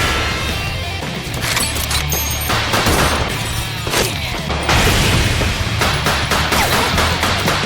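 Gunfire is exchanged in an anime battle-royale shootout from Sword Art Online Alternative: Gun Gale Online, involving a sniper rifle, with rapid volleys of shots, sharp impacts and crashes overlapping loudly across several seconds.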